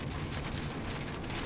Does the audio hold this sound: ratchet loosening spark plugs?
no